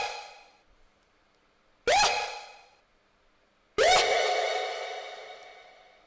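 A yell sample treated with distortion, chorus, heavy reverb and an echo double bursts out twice, each loud and bright with a long smeared tail trailing into the gap, the second decaying longer.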